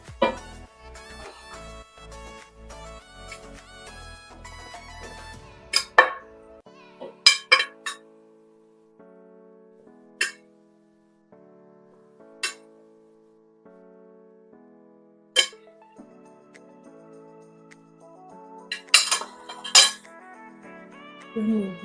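Utensils clink and tap against a bowl as honey-glazed chicken wings are mixed, giving a string of separate sharp metallic knocks spaced irregularly over soft background music.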